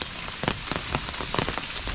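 Rain patters on a hard surface close by, with scattered heavier drops tapping irregularly over a constant hiss.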